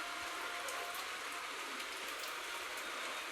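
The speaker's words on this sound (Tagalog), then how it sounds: "Kasi umuulan. Malamig pa." Steady rain pours down with a continuous hiss and faint patter of drops on surfaces, even and unbroken.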